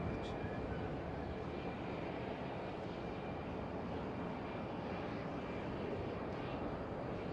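A fixed-wing aircraft roars overhead near George Bush Intercontinental Airport in Houston, a broad, steady engine rumble holding at constant loudness for several seconds.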